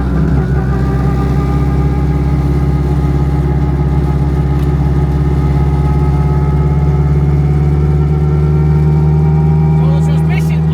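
A 1000 HP all-wheel-drive Honda Civic running with a loud, steady engine drone and strong whining transmission tones, sustained and close throughout, with a brief rise near the end.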